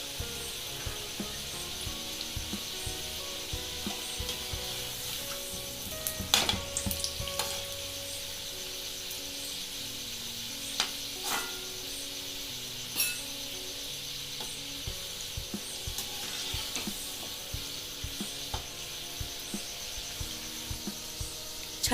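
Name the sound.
bhakarwadi snack frying in oil on low flame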